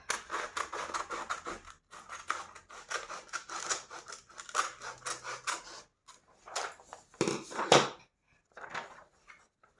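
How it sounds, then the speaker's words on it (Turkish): Scissors snip repeatedly through card or paper while cutting out a SpringBonnie mask, close-up bursts of rasping cuts with brief pauses, a few sharper snips near the end. "Buradan kesiyorum."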